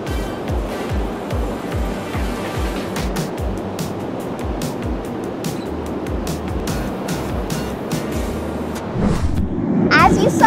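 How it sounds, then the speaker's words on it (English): A hydroelectric dam's water turbine running in an enclosed room, a loud, continuous rushing roar with a churning low rumble that swells slightly louder near the end. "The turbine is right behind that door. It's really loud in there"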